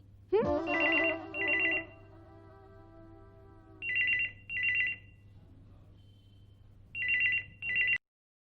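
A telephone rings in a home with repeated pairs of bright electronic trills separated by pauses, loud and close, after a brief sustained tone at the start, with no talk over it.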